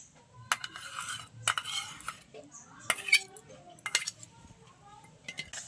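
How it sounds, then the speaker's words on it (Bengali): Sugar and palm fruit pulp being beaten together in a bowl for cake batter, with irregular clinks and scrapes of a utensil against the dish, fairly quiet and close. "তিনটে উপকরণ একসাথে ভালো করে আমি মিশিয়ে নেবো, একটু ফ্যাটিয়ে এইভাবে।"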